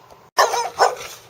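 An English bulldog gives two short, close barks in quick succession, loud and sharp against a quiet background.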